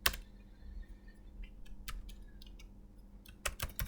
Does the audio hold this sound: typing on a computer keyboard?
yes